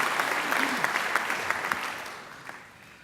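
Applause from the audience at a university graduation ceremony honouring alumni volunteers, steady crowd clapping that holds for a few seconds with scattered sharper claps, then gradually fades.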